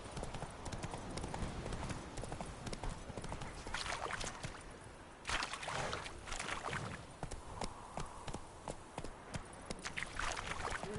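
Horse hooves clip-clop steadily as a rider travels in The Witcher 3 video game, a quick, even rhythm of close hoofbeats running throughout with no talking.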